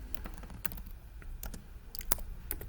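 Computer keyboard typing, a run of quick irregular key clicks at close range, alone with no talk.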